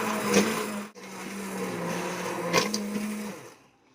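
An immersion blender whirs steadily through hot loaded potato soup, mashing the potatoes, with a brief cut-out near the start and a motor pitch shift before it winds down and stops.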